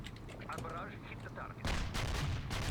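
Gunfire and explosive booms from the PC war strategy game World in Conflict, with dense, steady rumbling volleys that grow louder and harsher about halfway through, under a faint voice.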